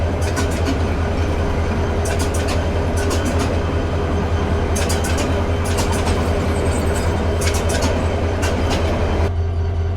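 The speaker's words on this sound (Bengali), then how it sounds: "কমিউটারের সাথে 5:04 আমাদের ট্রেনের ক্রসিং হচ্ছে।" Train noise heard from aboard the Mohonganj Express 789 on the Dhaka to Mohonganj line as it crosses a commuter train: a continuous loud low rumble with repeated clusters of sharp clickety-clack wheel clicks along the rails.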